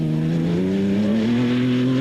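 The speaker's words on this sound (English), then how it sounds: "That's a very effective-looking off-road vehicle, that one." Off-road rally vehicle driving flat out through the bush during the Baberspan 500 in 1999, its engine note rising steadily in a loud, close roar with no talk.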